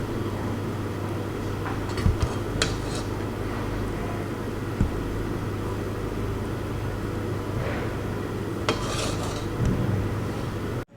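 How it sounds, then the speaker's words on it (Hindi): Green peas pulao rice is stirred in a pot and served into a dish, with scattered metallic scrapes and clinks of a spoon against the pot over a steady low kitchen hum, close and moderately quiet. "इनको हिलाएंगे और डिश में निकालेंगे।"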